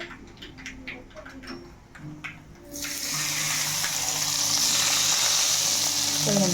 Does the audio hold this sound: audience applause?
no